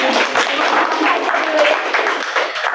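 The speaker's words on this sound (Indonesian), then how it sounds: "boleh tepuk tangan buat produser karbitan" An audience at a production talk breaks into loud, close applause, a dense patter of clapping hands mixed with faint voices and a few cheers throughout.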